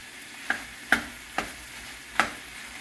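Beef for stroganoff browns in a pan over high heat, giving a soft steady sizzle broken by four sharp clacks of a utensil stirring against the pan.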